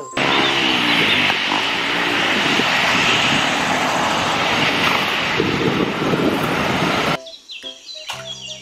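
A loud, steady airplane engine roar holds for about seven seconds, then cuts off abruptly to a quieter, different background.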